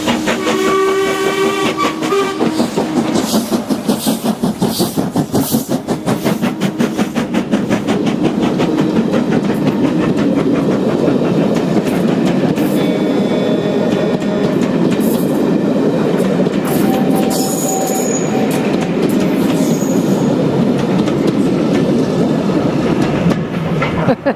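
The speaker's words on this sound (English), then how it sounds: "Here comes the daily steam train" A steam train from Mallaig to Glasgow rolls past close by, loud and steady, with rhythmic chuffing, rail clatter and a few whistle toots along the way.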